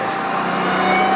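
A Ram TRX pickup fitted with a JMB intake, in sport mode with light throttle, gives a steady, loud engine drone that swells slightly toward the end, heard up close from inside the cab with no talking.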